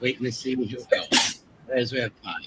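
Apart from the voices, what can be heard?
sneeze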